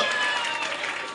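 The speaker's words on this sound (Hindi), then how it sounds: "तालियों की गड़गड़ाहट के साथ इनका इस्तेमाल करेंगे हम" Dense, continuous applause rises from a crowd at a high school smart digital board inauguration, a brisk patter of many hands with no pauses.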